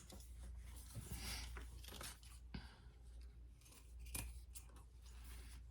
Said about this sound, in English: All right, let's cut off our excess zipper.